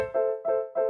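Boz New York L Lite sampled piano with dynamics set to zero, three evenly spaced notes or chords struck at identical volume, each ringing briefly before the next, clean and close with no talking.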